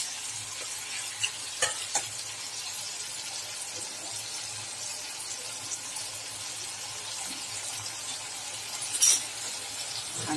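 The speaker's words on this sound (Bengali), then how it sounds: "আমি আস্তে আস্তে সেদ্ধ করা মাংসটা এর মধ্যে দিচ্ছি।" Boiled chicken pieces go into a frying pan for a Bengali chicken and potato curry, giving a steady hiss and sizzle with a few brief clinks and scrapes. The sizzle rises sharply for a moment near the end.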